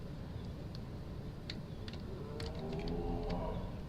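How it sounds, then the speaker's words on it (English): Cows moo in the video game It Moves, a low, drawn-out moo rising toward the end over a steady ambient drone, with faint clicks scattered through it. "More cows!"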